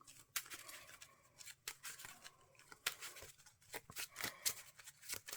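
Marvel Champions cards being shuffled by hand, a quick series of crisp riffling snaps and soft flicks in irregular bursts, close and fairly quiet.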